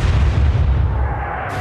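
Ship gun firing in the naval video game Atlantic Fleet: a loud, deep boom that rolls and fades over about a second and a half.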